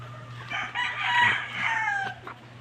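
Roosters crow and hens cluck at a gamefowl farm, several overlapping calls close by over a low steady hum, with no talking.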